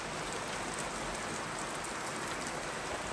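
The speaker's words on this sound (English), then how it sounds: "you can see now it's absolutely pouring down" Heavy rain pours down steadily outdoors, a dense, even hiss of drops drumming on surfaces with no break, while a bent hydraulic tailgate on a Stewart trailer awaits repair.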